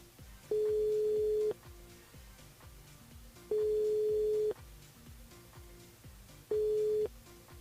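A telephone line rings out during a call-in radio show, three steady tone bursts of about a second each at regular intervals over faint background music, with no talking.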